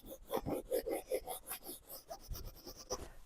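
Soft greeny-blue pastel is dragged over textured mixed media paper in quick scratchy strokes, a close, quiet rasping rhythm of short rubs.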